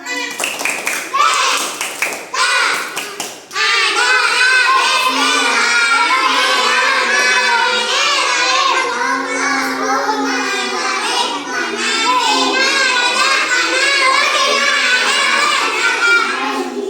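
Children do a short rhythmic prayer clapping chant before a meal, a few quick claps followed by sustained group chanting, loud and close, with a voice nearby.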